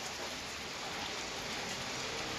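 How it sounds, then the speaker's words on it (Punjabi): Rain falling outdoors, a continuous, even hiss of drops on surfaces at steady volume, with no voices. "ਹੁਣ ਮੀਂਹ ਆ ਗਿਆ"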